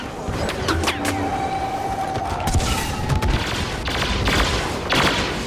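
Blaster fire in the Star Wars Battlefront video game: rapid bursts of shots crackling through a dense, loud battle din, with sharp reports scattered across the whole stretch.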